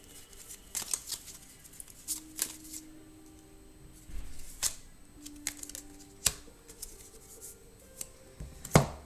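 Tarot cards laid down over other cards during a relationship reading, giving soft scattered slaps and brushing card sounds at an irregular pace, close and fairly quiet, with no talking.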